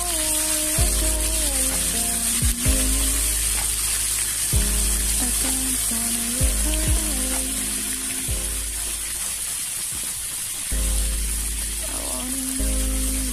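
Chili paste frying in a pan for mee mamak, a steady close sizzle running throughout with faint clinks and stirring noises, no one talking over it.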